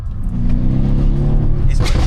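Brabus-tuned E63S AMG family saloon with a 5.5-litre twin-turbo V8 revving hard, a loud, deep continuous roar climbing in pitch and holding close and steady throughout.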